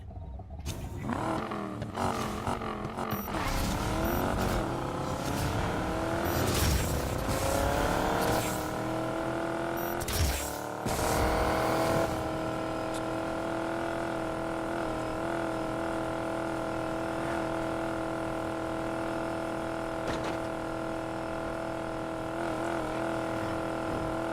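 Race car engines rev hard during a drag race in the video game Need for Speed Payback. The revs climb repeatedly through gear shifts and then settle into a loud, sustained engine drone with no talking.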